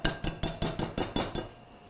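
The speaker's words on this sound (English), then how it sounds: "I'm going to get rid of this whisk." A metal whisk clatters down among baking bowls in a home kitchen, making a quick series of about eight bright, ringing clinks that fade into quiet.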